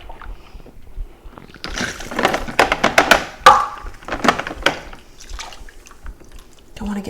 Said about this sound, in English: And I'm just going to fill my jars.